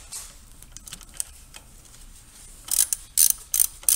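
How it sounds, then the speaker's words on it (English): A ratchet removes 5mm valve cover bolts on a VW Golf Mk4 TDI ALH engine, quiet light clicks at first, then loud rapid ratcheting bursts near the end. "Alright, now I can remove these 5mm bolts."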